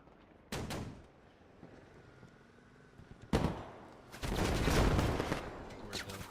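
Gunfire in the tactical shooter game Squad during an organized scrimmage: a couple of sharp shots, then a dense, sustained burst of rapid fire with crackling reports, moderately distant and unaccompanied by talk.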